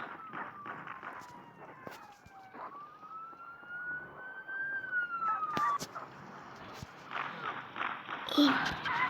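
A police car siren in a video game wails in a long rising and falling sweep under steady background noise, with a voice speaking over it and bursts of other game sounds.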